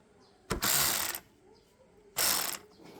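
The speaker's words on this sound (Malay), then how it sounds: "Jadi kita try buka nut 10 ni." A DAGMARA cordless ratchet wrench loosens a 10 mm nut in two loud, close motor bursts. Each burst lasts about half a second, with quiet between them.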